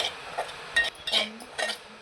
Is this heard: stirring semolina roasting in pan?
yes